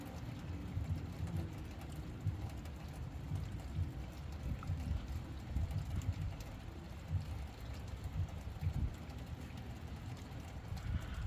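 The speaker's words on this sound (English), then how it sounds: "I'm just listening to the calming sound of the raindrops." Steady rainfall beyond a window, heard from indoors as a constant muffled hiss over a deep low rumble, unbroken and moderately quiet with no one speaking.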